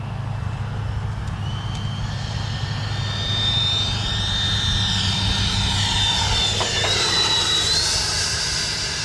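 An FMS Integral 80mm RC jet plane with flaps down passes by slowly on approach, a loud steady whine rising and sweeping in pitch as it nears and goes by.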